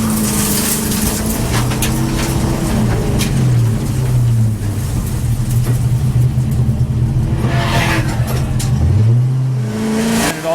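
A BMW E36 race car, wide-body version, runs hard on a track, its engine droning steadily near and loud with rising and falling pitch through shifts and revs, and no voices over it.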